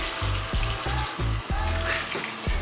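A beauty blender sponge is rinsed under running tap water at a sink, giving a steady splashing stream broken by rhythmic squishing pulses about every third of a second as it is squeezed.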